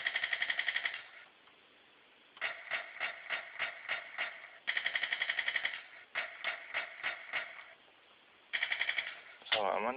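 A 2004 GI Joe Defense Mech toy playing electronic machine gun bursts, rapid staccato tinny rattles repeated in several short volleys with quiet gaps, ending in a different warbling effect.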